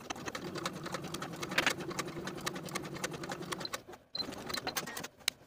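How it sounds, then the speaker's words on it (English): A sewing machine stitching a 5/8 inch seam on a pintuck dress, rapid rhythmic needle clatter close and fairly quiet, pausing briefly near the end before a few more stitches. "And now I'll sew this lower center section with a 5/8 inch seam allowance backstitching at the dot to secure"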